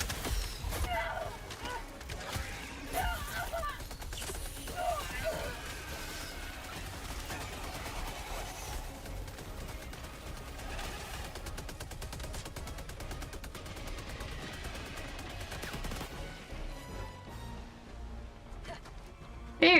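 Gunfire in the Strange Antiquities video game, set in a crypt: dense, continuous crackling shots and bursts run throughout, fairly distant-sounding and mixed with game noise, while a person talks over it.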